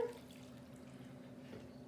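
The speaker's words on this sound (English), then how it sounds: "So, water. That's the water." Water pours briefly and quietly into a bowl for homemade play dough, a soft trickle and splash that lasts under two seconds.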